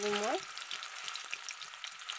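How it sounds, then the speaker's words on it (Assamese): Chopped carrots, peas and cabbage fry in a pan with a dense, close crackling sizzle and scattered pops throughout, after a brief tonal chirp at the very start; no one speaks. "গাজৰ আৰু মটৰ আৰু অকণমান বন্ধাকবি কাটি লৈছোঁ, আৰু এয়া ইয়াত ভাজি ল'ম মই এতিয়া।"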